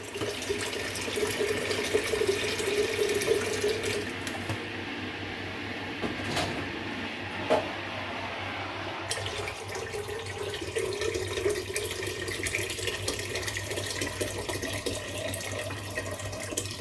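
Running water pours from a tap into a pot, a steady rushing stream with a few clanks of metal and a short pause midway.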